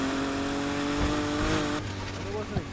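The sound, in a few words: car engine revving in the video game Need for Speed Heat, original L24 motor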